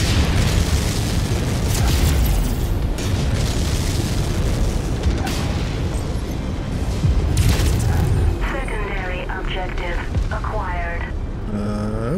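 Heavy booming blasts rumble through a Mechwarrior 5: Mercenaries battle as an enemy mech is destroyed, deep and dense throughout, with voices talking over the explosions near the end.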